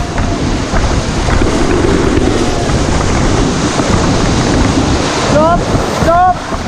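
Paddling a raft through river rapids at Rishikesh, under a loud, steady roar of rushing water and wind buffeting the microphone, with a few brief squeaky tones near the end.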